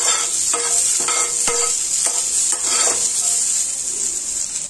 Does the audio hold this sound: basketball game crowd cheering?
no